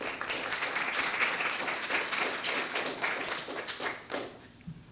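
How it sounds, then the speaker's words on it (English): An audience claps at the NY 122nd Assembly District debate, a few seconds of moderate, steady applause from a modest crowd that thins out and fades at the end. "I know that your applause is very encouraging for these gentlemen"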